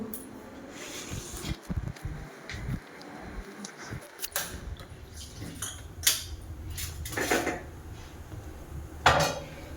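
A metal wok set on a stove with its lid handled, giving scattered metallic clanks, scrapes and knocks of varying loudness in a quiet kitchen.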